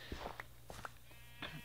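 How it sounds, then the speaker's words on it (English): A sheep in the Minecraft video game bleats in short, faint, nasal bursts, with soft blocky footsteps and game ambience around it. "I'm gonna need to kill that sheep."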